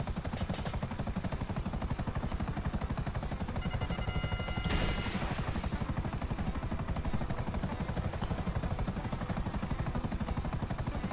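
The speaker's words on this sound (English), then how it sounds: "I don't need that helicopter." Helicopter in GTA 5 Online flying overhead, a steady loud rotor drone running throughout with a brief burst of louder noise near the middle, no talking.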